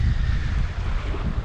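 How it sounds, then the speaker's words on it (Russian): Strong storm wind blows across the Ob river during bank fishing with bottom rods, a steady, loud low rumble of gusts buffeting the microphone for the whole stretch, with no talk. "Штормовой ветер."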